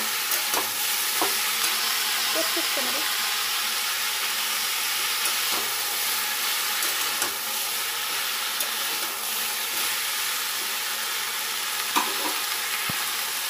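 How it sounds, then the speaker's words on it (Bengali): Shredded cabbage sizzles and fries in a pan for winter-vegetable khichdi, with steady close hiss and scraping stirs and clinks recurring throughout; a voice briefly speaks. "একসঙ্গে বাঁধাকপিগুলো ভাজা হয়ে যাবে"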